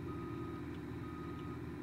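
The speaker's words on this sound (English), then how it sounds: "Oh, I love the backup beep." A truck's reversing beeper in the driving game BeamNG.drive sounds steadily over a constant low engine drone, its tone holding through the short stretch with no talking.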